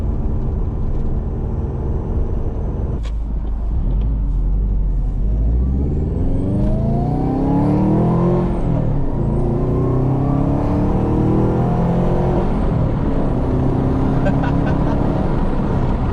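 A Subaru with a rebuilt 5-speed transmission drives steadily with a low engine rumble that rises and falls as it accelerates, heard from a fairly quiet cabin.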